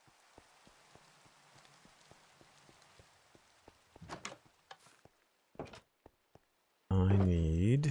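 Minecraft rain patters steadily as soft, even ambience with scattered droplet ticks, interrupted by a few louder game noises and then a sudden loud tonal burst at the end.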